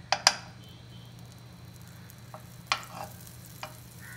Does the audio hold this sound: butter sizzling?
yes